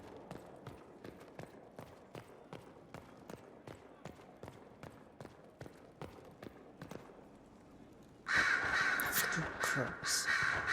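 Crows in Dragon Age: Inquisition give a steady series of short, evenly spaced caws over a quiet background, ending in a sudden loud burst of broadband noise.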